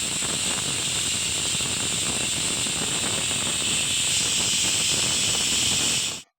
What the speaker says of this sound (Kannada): ಎರಡು ವಿಷಲ್ ಕೂಗಿದೆ, ಕುಕ್ಕರ್ ತಣ್ಣಗಾಗಿದೆ.